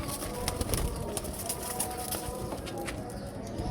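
Pigeons cooing close by, soft repeated throaty coos over a busy background of other faint bird calls and ambient noise, no talk.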